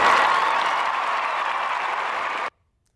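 Synthetic clapping sound effect from a Facebook Messenger clapping emoji: dense, steady crowd-like applause at full loudness for about two and a half seconds, then an abrupt cutoff to silence.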